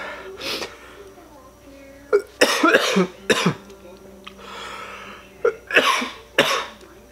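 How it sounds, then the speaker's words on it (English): Several harsh coughs from eating Chocolate Moruga Scorpion peppers, in short bursts close to the mic, with pauses between clusters and a final pair of coughs near the end. "Definitely making me cough more"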